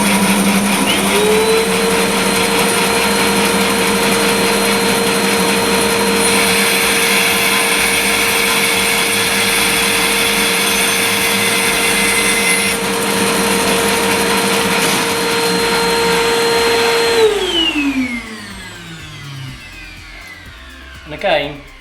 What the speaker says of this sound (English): that can again easily be done on the bandsaw by setting the mitre slide at 45 degrees.